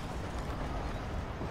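Horse hooves clip-clopping steadily while riding in the video game Red Dead Redemption, a continuous close patter under a dense background mix with no clear talk.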